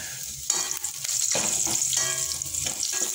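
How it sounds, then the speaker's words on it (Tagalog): Ginger frying in a hot pan, a steady loud sizzle with occasional stirring scrapes throughout. "Tunahan natin ng luya, nakainit na yung kasurolan natin"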